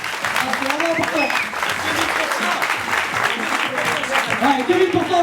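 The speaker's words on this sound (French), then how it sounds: "s'il vous plaît, je voudrais vraiment vous applaudir" An audience at a French dance battle event claps steadily throughout, dense applause with voices and shouts mixed in over the clapping.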